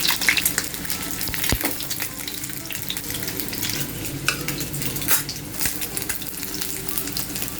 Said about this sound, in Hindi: अब इसमें आलू फ्राई करूँगी मैं।